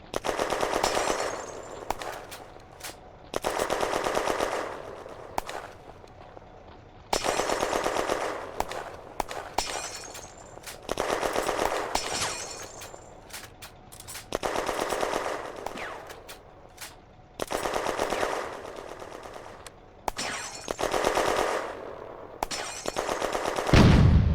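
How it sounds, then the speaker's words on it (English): A Renault AMC-35 tank in a May 1940 war game fires its machine gun and cannon in long, loud, rapid bursts with short pauses, repeated steadily throughout without speech. "the Renault AMC-35 has located the reported German infantry and is engaging with machine gun and cannon fire"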